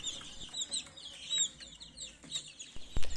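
Fourteen-day-old ELBA chickens cluck and chirp repeatedly in a busy coop, high peeping calls overlapping close by, with a louder knock near the end.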